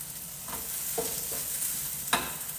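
Mushrooms stir-fry in a hot pan with a steady close sizzle, broken by a few sharp scraping strokes as they are moved around.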